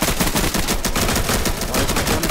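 Dense, continuous gunfire from the tactical shooter game Insurgency, loud and close with rapid overlapping shots filling the whole stretch and no talk.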